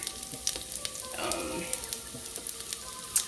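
Chopped onions, about five of them, frying in olive oil in a pan for caramelizing, giving a steady close crackling sizzle with scattered sharp pops throughout.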